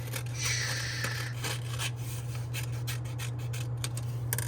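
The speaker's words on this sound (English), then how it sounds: "use my scissors once again, putting my trash in the trash pile, making small cuts, turning my paper" Scissors snip through paper in a series of short, close cuts, with light rustling of paper between them and a low steady hum underneath.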